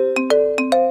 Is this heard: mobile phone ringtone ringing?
yes